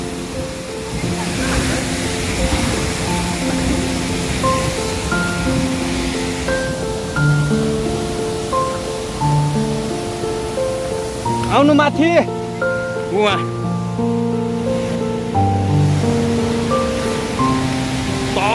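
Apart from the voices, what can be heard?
Bire waterfall roaring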